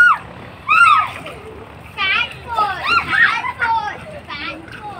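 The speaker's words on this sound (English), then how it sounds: "The kids enjoying the swimming in a little pool." Kids splash and shout while swimming in a small outdoor pool, with bursts of water splashing mixed with high excited children's voices and squeals throughout, close by.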